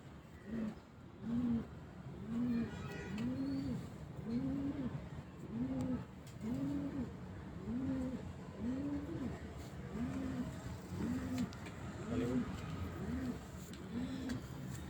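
Pigeons kept by a Rawalpindi bird fancier coo in a steady, rhythmic series of soft, rolling calls repeating about every second, fairly close and continuous throughout with no talking.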